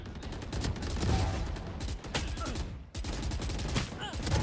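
Phantom rifle bursts in Valorant crackle in rapid, loud sprays, with short pauses between volleys and faint voice underneath.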